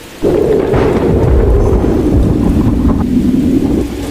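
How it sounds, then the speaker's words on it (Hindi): Heavy nighttime rain driven by strong wind roars in a loud, steady, unbroken wash that continues throughout. "सिर्फ तेज हवा और बारिश का शोर"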